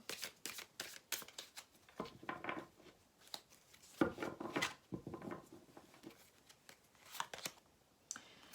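Tarot-style cards are handled and laid down during a card reading, with soft papery slaps, shuffling rustles and light taps on a table, close and quiet.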